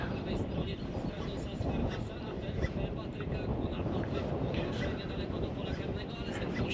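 Steady, loud wind roars and buffets the microphone in continuous broadband rumble, with faint water sounds beneath and no clear voices, while fishing.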